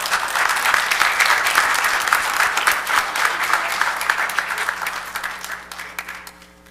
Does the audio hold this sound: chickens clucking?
no